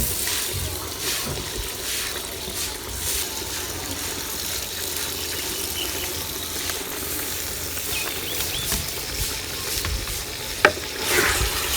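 Cauliflower stirred into a pan with cooking meat, village-style gobhi gosht: a steady sizzle and frying hiss with scraping stir sounds, one sharp clink near the end, no talking.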